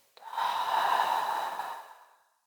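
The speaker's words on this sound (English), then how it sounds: "Big breath out." A single long, deep exhalation, starting with a sharp breathy onset and then fading slowly over about two seconds, close and soft, heard alone during a guided breathing and relaxation exercise.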